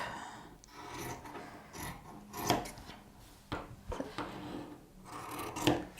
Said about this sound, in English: So I'm going to cut a strip.